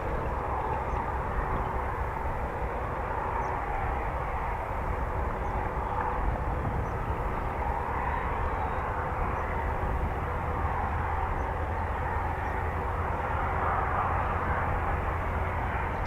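An RAF Typhoon FGR4 jet lands at RAF Coningsby, giving a steady, broad roar that holds at an even level for the whole stretch with no voices over it.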